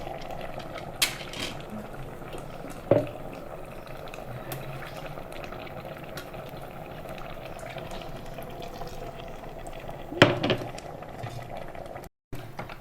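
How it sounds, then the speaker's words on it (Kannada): Elephant foot yam gasi curry simmering in a pot, a steady low bubbling texture with a few sharp clinks and knocks standing out, no voices. "ಒಂದು ಸರಿ ಕುದಿ ಬರೆಸುವ ಇದಕ್ಕೆ"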